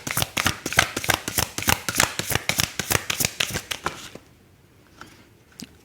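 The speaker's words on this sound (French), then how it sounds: "On va prendre 2 cartes." A deck of tarot cards is shuffled in quick, crisp riffles for about four seconds, then goes quiet apart from a few soft clicks and slides as two cards are drawn.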